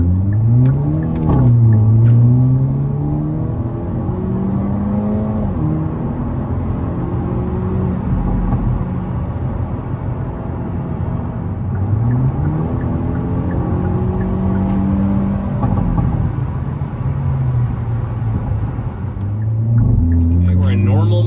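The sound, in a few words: Hyundai Elantra N accelerating hard in race mode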